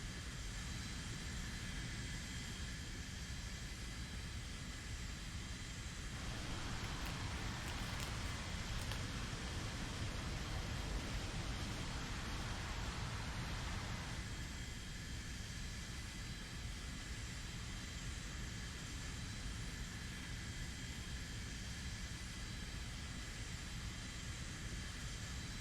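Plane engine from the combat flight game War Thunder, a steady broadband roar droning continuously throughout, swelling louder and brighter in the middle stretch before settling back to an even hum.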